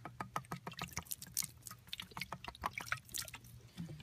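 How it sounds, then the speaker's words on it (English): A little water poured into a hand-formed primitive clay earth bowl, with close, quiet splashes and drips in a quick irregular series, with no talking. "Just put a little water in there."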